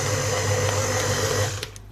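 An electric mixer slowly beats lemon cake batter, a steady close whirring hum that cuts off near the end, followed by a few light clinks.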